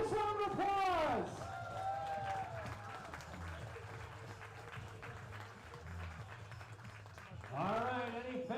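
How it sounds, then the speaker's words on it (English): Crowd applause at a minor-league baseball game between the Batavia Muckdogs and Auburn Doubledays swells briefly at the start and again at the end, with a public-address announcer's voice carrying through the middle of the clip. "Let's give her a nice round of applause."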